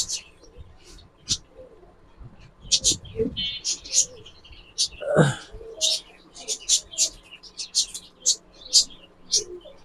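Caged Giribaz pigeons coo and chirp in quick, overlapping bursts nearby, while someone speaks over them for much of the time.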